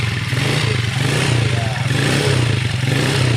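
Motorcycle engine idling up close with a rough, sputtering exhaust after the engine took in water from being submerged, steady low rumble and clattering throughout.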